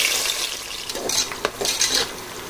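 A large sliced onion hits hot oil in a cooker for nihari, giving a bright, close sizzle with a few scraping stirs and clinks and no talking.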